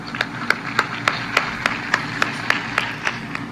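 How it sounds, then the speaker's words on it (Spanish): Audience applause at an official event in Mexico comes through as regular, evenly spaced claps in a steady rhythmic beat, as if a crowd claps in unison over a low background murmur. "Reciban todas y todos ustedes un aplauso en muestra de sincero agradecimiento por la labor que realizan en favor de México."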